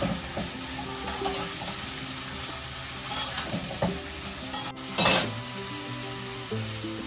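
Vegetables fry in a pan with a constant sizzle, while occasional stirring scrapes and light clinks of a utensil against the cookware sound up close, with no talking.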